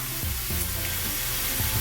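Mussels tossed into a hot pan with translucent onion and garlic hiss in a steady, loud sizzle, with a few soft knocks as the shells settle and shift.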